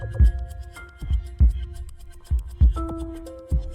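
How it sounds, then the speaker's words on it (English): A deep thumping heartbeat effect pulses in slow, regular double beats beneath sustained tonal music in a game's hunt sequence, loud and upfront with no talking. "Am I hearing my own heartbeat?"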